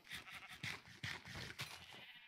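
Several sheep bleat in a video game, overlapping calls repeating in quick succession, fairly close and moderately loud with no talk over them.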